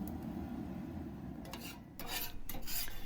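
Fried rice scraped off a flat-top griddle and dumped into a bowl: a soft rasping scrape that grows into louder rubbing swipes and clinks near the end, close up and without talk.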